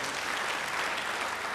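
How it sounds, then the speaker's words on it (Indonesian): Dense, even applause from a sizable audience, continuous throughout with no voices standing out. "Beri tepuk tangan yang baik buat dia."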